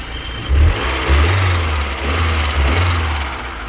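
A 1993 BMW 316i Touring engine idles steadily with a low, even rumble and slight rises in revs, close by, with no voices.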